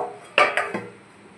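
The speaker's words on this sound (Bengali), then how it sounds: "আবার ঢাকনা দিয়ে দিলাম" A lid goes onto a pot of cooking meat with three quick metallic clanks close by, the first loudest, then a short ringing decay into quiet.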